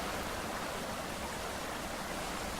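A waterfall in the survival video game Subsistence gives a steady, loud broadband rush of falling water, unbroken and constant with no voices over it.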